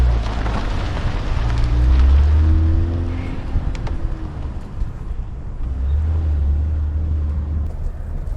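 A 2025 RAM 1500 Crew Cab rolling along bumpy mountain truck trails, a low engine rumble swelling and easing over gravel crunch and knocks heard from inside the cab, without talking.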